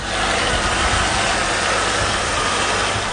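Faulty Kia or Hyundai car engine running, a loud, steady, close broadband roar with a low rumble underneath and no voices.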